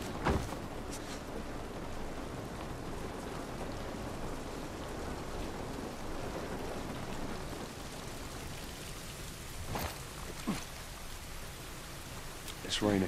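Steady rain pours down outdoors in The Last of Us Part 1, a continuous wash of hiss with a few louder drip-like ticks near the end.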